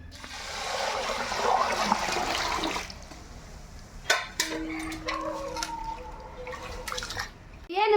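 Soaked lentils and rice are rinsed in water for pappu pongal: a steady pouring, splashing rush at first, then quieter sloshing with light clinks and drips, ending in another burst of running water.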